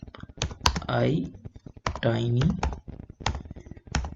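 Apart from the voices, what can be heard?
typing an npm command on a computer keyboard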